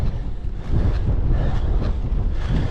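Steady headwind buffets the microphone while a cyclist climbs a long uphill road, a continuous loud rumbling gust noise with low-end roar and no voices.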